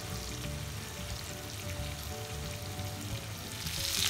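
Chicken fries in a pan over a medium flame, a steady, close hiss and crackle that holds level and swells a little toward the end.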